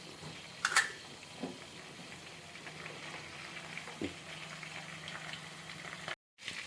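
Mustard seeds, cumin and dried chillies frying in hot oil, a faint steady sizzle with small crackles and a few soft pops, ending with a brief clatter and a cutoff.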